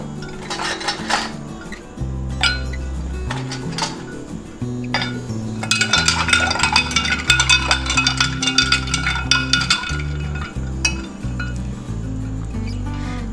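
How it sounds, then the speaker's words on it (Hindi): Ice clinking and rattling into a glass of sandalwood sharbat, a cool summer drink, with a busy stretch of bright clatter in the middle and steady background music beneath, no talking. "आइस ऐड करेंगे।"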